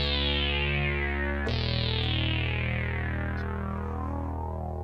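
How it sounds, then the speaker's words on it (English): A single analog synth oscillator shaped by a filter envelope and run through delay and chorus, in a modular setup, plays two sustained swept notes whose buzzy tones shimmer and echo away. "It's literally just a filter envelope going through a single oscillator, going through the audio delay,"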